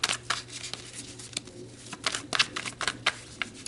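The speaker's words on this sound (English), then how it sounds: "So let's shuffle that in and see what comes through in the tarot." Tarot cards being shuffled by hand, giving a run of crisp, papery riffles and flicks in uneven bursts, close and fairly quiet, with a steady low hum beneath and no talking.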